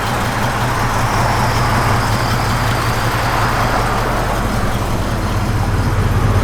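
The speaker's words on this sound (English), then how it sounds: "you can hear a little cam to it, so they've upgraded the cam a little bit" A 1973 Chevrolet Camaro Z28 V8 with a mildly upgraded cam idles loud and close, a steady rumbling drone that holds constant with no talk over it.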